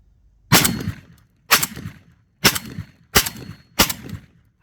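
A JTS M12AK shotgun fires five sharp, loud blasts at an outdoor range, spaced roughly a second apart, each report ringing briefly before the next.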